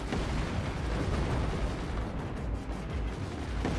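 Mortar fire in the physics-based RTS game Forts: a dense, continuous barrage of booming blasts and rumbling explosions fills the whole stretch, loud and sustained with no talking.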